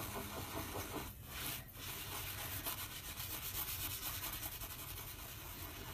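A cloth rubs over a spot on a kitchen stove top, making a steady close scrubbing swish that runs almost without pause, with a short dip partway through.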